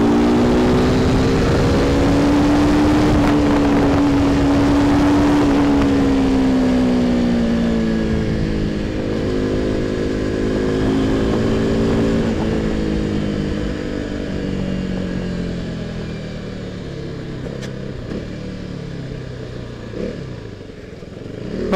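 KTM RC 390 motorcycle engine droning close and loud as it rides through city traffic, its pitch rising and falling with the throttle over steady road and wind noise.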